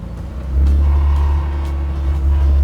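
A 1987 Porsche 911 Targa engine rumbles close by on a test drive, a deep steady drone that swells slightly as it revs a little, with no talking.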